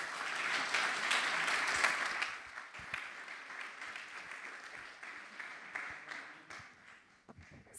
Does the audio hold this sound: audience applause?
yes